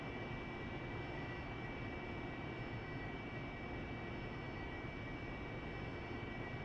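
A steady, low-level aircraft engine drone in the DCS World flight game, the RPM slowly building, distant and even, with no speech.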